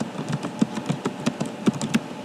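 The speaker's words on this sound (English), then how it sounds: "I'm going to press enter and type the rest" Fingers type on a computer keyboard in a Microsoft Word lesson, a steady run of close, crisp key taps at an uneven, brisk pace with no voice over it.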